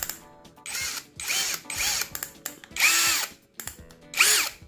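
An INGCO brushless cordless impact drill runs at higher speed in about five short, loud, close whirring bursts, each winding up and cutting off, with no other sound.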